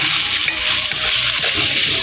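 A little water is poured into spices for a kadhi masala paste, a steady splashing pour lasting a couple of seconds, fairly close, with no talk over it.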